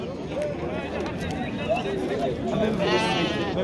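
Sheep bleating at the Khamis Aguerai livestock market amid a crowd, with several bleats scattered through dense chatter and bargaining voices close by.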